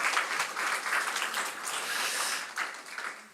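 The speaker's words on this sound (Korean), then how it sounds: "박수 한번 쳐줄까요?" Church congregation applause at a Sunday service, a steady wash of many hands clapping indoors for about three seconds, fading slightly at the end, with no voices over it.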